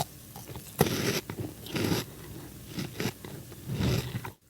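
Someone bites and crunches through an airy, crunchy candy up close, several loud brittle crunching bursts spaced by short pauses, with no talking.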